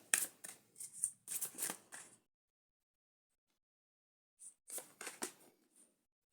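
Tarot cards are shuffled close up in quick papery riffles and flicks, two bursts separated by a silent pause, soft and isolated with no talking.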